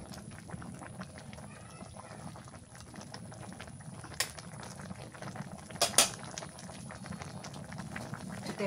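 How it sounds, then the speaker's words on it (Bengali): Jackfruit simmering in a pot on a rainy day: a steady, low bubbling boil that runs throughout, with a few brief clinks of utensils near the middle and end. "সেদ্ধ কাঁঠাল সেদ্ধ হয়ে গেছে"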